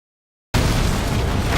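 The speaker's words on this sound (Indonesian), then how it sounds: "Karena ledakan itu membuat si monster hancur berantakan." An explosion blows apart a monster in an animated cartoon, bursting in suddenly after silence as a loud, sustained roaring blast that holds steady to the end.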